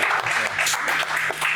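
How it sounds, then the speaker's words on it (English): Audience applause for guests at the launch of the Crimson Liberation Hub, a dense, steady wash of many hands clapping together, fairly close and loud, running unbroken with no voices over it. "Please give them a round of applause"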